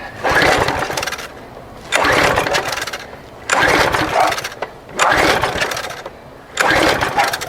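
A found lawn mower's small engine, flooded and set on choke, cranks and sputters in five loud, evenly spaced bursts about a second and a half long, separated by short quieter gaps.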